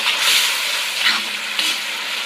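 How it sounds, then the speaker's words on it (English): Pepper, onion and minced garlic simmer in sauce for General Tso's chicken, producing a loud continuous hissing sizzle with a few brief stirring swells, close up and without voices. "I'm going to add some pepper and some onion and minced garlic, and let that simmer up"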